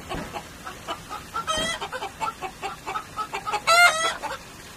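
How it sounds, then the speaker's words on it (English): Hens clucking in quick, uneven bursts, with a few sharper squawks breaking through, close by and fairly loud. "a battalion of chickens surrounded him, clucking and scratching at his legs."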